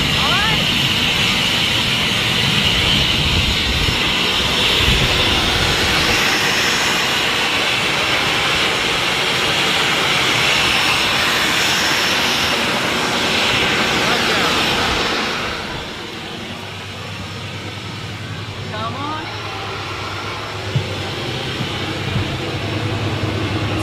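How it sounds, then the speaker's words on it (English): A small private jet in flight to Switzerland, heard as a steady, loud broadband cabin roar that softens and drops lower partway through, with a faint low hum continuing alongside. "So now we're flying to Switzerland in a beautiful little private jet."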